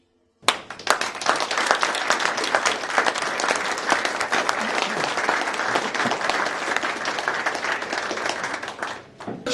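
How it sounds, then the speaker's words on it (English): An audience at the Rotary Young Chef Competition heat in Bournemouth breaks into applause, a sudden loud burst of many hands clapping that stays dense and sustained for several seconds before tapering off at the end. "give yourselves a very good round of applause"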